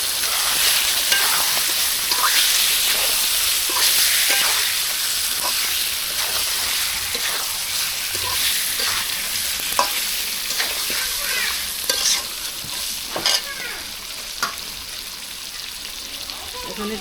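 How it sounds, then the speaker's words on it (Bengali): Tilapia pieces sizzle and fry steadily in hot oil with onion, chilli, turmeric and salt as a spatula stirs and scrapes the pan, a continuous close crackle broken by frequent sharp scraping strokes, with no talking. "মাছটা কষাবো"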